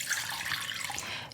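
Water runs steadily into a vessel for a soy sauce and sugar sauce for Hainan chicken rice, a soft continuous splashing pour heard up close and alone.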